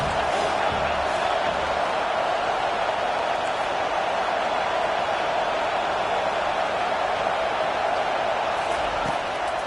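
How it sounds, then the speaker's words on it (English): Stadium crowd at a college football video game at South Carolina, a dense continuous roar building on third down, fairly loud and steady throughout. "Decibels rising as the crowd gets behind this defense on third down."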